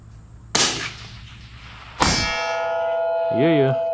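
A rifle bullet striking a small steel target at long range, with two sharp metallic clangs about a second and a half apart, each ringing out clearly, the second with a long sustained tone and a voice briefly at the end.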